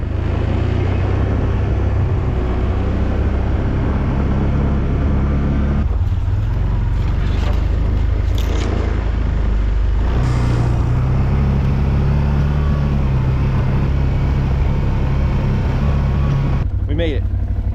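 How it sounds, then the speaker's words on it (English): A Can-Am six-wheeler ATV drives through deep snow, its engine a loud, steady drone close by, with the pitch dipping and rising as it works through the snow, and a brief rattling burst near the end. "Can-Am 6-wheeler is running good."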